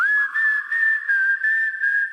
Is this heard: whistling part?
yes